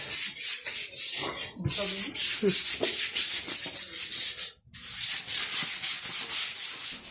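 Floor scrubbed with Nirma detergent water across a cement floor at home, giving continuous rhythmic rubbing and brushing strokes, close and loud, with a short pause near the end and brief voice sounds early on.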